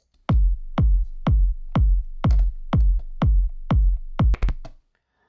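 A layered electronic kick drum, sub kick plus top kick, pounds in a steady loud four-on-the-floor pulse of deep punchy thumps, with extra rapid hits bunched near the end before it cuts to silence.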